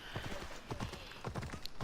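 Horse hooves clip-clop at a steady trotting rhythm in the Ancient Greek open world of Assassin's Creed Odyssey, close and moderately loud, with faint background talk.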